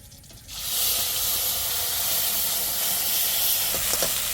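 After a quiet start, a sudden loud sizzle bursts in as cumin and bay leaf paste hit hot oil in a wok, then a steady hissing sizzle continues.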